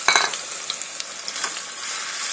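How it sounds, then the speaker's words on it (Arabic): Garlic cloves frying in oil in a pan for an Egyptian red bean (lobia) tasha, stirred with scraping strokes at the start, then a steady close sizzle with small pops and no voices. "اهم حاجة وانت بتقلبي التوم وبتحمريه"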